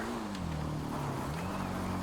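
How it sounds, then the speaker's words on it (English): A car engine in GTA 5 Online during the Cayo Perico Heist hums steadily at moderate volume, its pitch dipping and rising slightly as the vehicle passes, with no talk over it. "And now there's a car."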